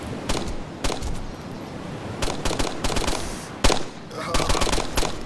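Video game gunfire in a survival shooter match: repeated bursts of sharp automatic shots, clustered in rapid volleys with brief pauses, loud and close, with players talking underneath.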